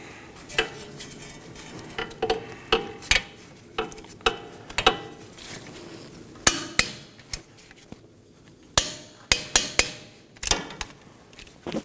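While the last bolt comes out during a front CV axle replacement on a 2018-2024 Chevrolet Equinox 1.5L, sharp metallic clanks and clicks of tools on hardware repeat irregularly and sound close, with quiet gaps and no talk.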